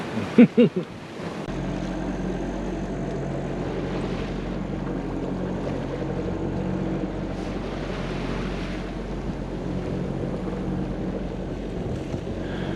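A sailboat motors under engine power at dawn off Nova Scotia, a low steady engine drone with wind and water rush, after a few sharp knocks at the start.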